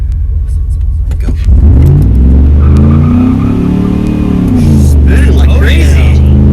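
Dodge Dakota R/T pickup truck launching hard from a standstill, engine roaring loud and close with rising revs and a rumbling low note as the tires spin; people talk over it near the end.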